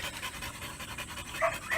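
Several dogs outdoors pant steadily and rapidly after exertion, a close, rhythmic breathy huffing that runs through the whole stretch.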